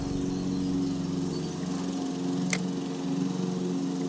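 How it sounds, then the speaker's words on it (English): A lawnmower engine runs steadily nearby on a quiet morning by the water, a constant droning hum with no pauses and no talk. "now I got a freaking lawnmower going off"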